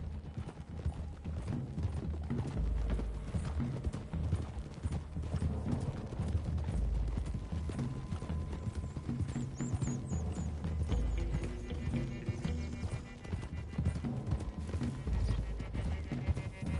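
Horse hooves clip-clop steadily over a bed of music and ambient noise in the video game Red Dead Redemption 2, with an occasional whinny, the rhythm continuous throughout.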